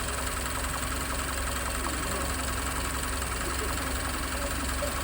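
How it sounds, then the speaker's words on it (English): A car engine idles steadily during a fuel trim test, with a constant low hum and faint mechanical knock running evenly throughout. "you can hear how the engine temporarily runs in a different manner"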